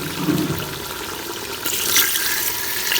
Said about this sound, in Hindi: अब इसमें मैं डालूँगी 1 गिलास पानी का।